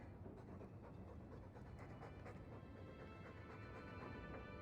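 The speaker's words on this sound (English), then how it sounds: "All that noisy dog breath, day in, day out, make him stop." A dog pants steadily in a video game, with quick rhythmic breaths over a constant, muffled background rumble, faint and unaccompanied by talk.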